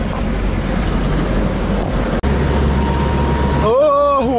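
Engine of a classic Chevrolet Opala with column shifter, driving on a Saturday, a steady low rumble throughout, briefly cut out midway, with someone talking over it.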